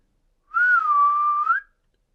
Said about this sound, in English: So I'm gonna whistle